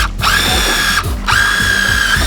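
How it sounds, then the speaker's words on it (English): A power drill drives screws into pre-drilled 2x4 lumber, two loud sustained whining runs with a brief pause between them, close up and without talk. "the reason for the pre-drilled holes is so that our wood obviously doesn't crack when we drive our screw through there"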